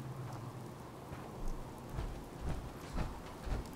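Steady rain in the video game Fallout 4 patters in a soft, even hiss, with a few heavier drops or dull thuds landing at irregular moments.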